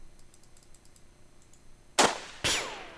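Two sharp gunshots from the Jagged Alliance 2 Urban Chaos mod, loud and close, fired about half a second apart after a stretch of quiet background clicks, with no talk over them.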